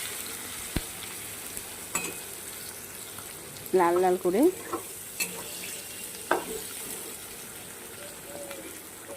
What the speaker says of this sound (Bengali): দেখো পেঁয়াজগুলো ভাজছি আমি